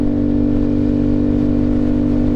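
Honda Grom motorcycle fitted with a Chimera intake and an ECU flash, its engine droning loud and close at a steady high-rpm pitch, a buzzy unbroken tone heard alone.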